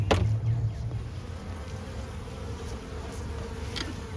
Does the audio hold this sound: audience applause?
no